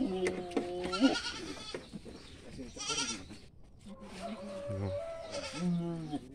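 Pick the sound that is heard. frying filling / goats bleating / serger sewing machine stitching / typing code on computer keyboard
goats bleating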